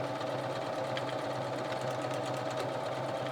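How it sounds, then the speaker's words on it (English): A Viking 118 sewing machine stitching a buttonhole bar tack: a steady, continuous mechanical whir and rapid needle clatter, close and even throughout. "Starts out by making a bar tack, and then stitches in reverse."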